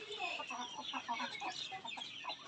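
Free-range village chickens cluck in their egg-laying coop in a small backyard farm, a soft, busy run of short repeated clucks from several birds close by, faint and without speech.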